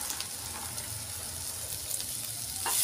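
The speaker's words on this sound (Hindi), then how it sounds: "और इसे भी 2 मिनट कांदे में भून लेंगे" Boiled shredded chicken frying with onion in a pan, a continuous close sizzle with light stirring and a slightly louder swell at the end.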